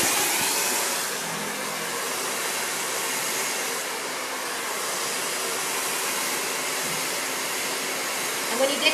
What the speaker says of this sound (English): you're just shooting your blow dryer up.